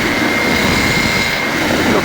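A powered Aeros Nine hang-glider wing in flight with engine power reduced toward level flight, giving a steady, continuous drone with broad wind noise close by, sustained evenly throughout.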